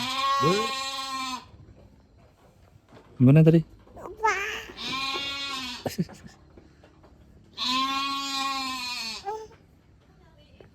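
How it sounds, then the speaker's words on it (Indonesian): Goats on a farm bleat loudly and close by in several drawn-out, wavering calls separated by pauses, while a child and other people talk in between. "Ada suara kambing."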